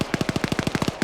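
Rapid automatic gunfire from a video game rattles off as a tight burst of about a dozen evenly spaced, loud, close shots in just over a second.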